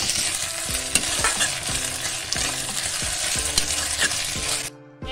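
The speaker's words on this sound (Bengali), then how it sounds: "এটাও 1 থেকে 2 মিনিট ফ্রাই করে নেব।" Cauliflower, carrots and peas fry in a pan with loud continuous sizzling and repeated rhythmic stirring scrapes, close up, ending abruptly in a brief quiet.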